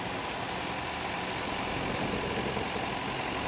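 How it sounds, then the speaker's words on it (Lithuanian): A tow truck idles steadily beside a damaged police car after a crash, its engine a continuous close rumble throughout with no voices over it. "Techninės pagalbos sunkvežimis pasiruošęs išvežti apgadintą automobilį policijos, tarnybinę mašiną"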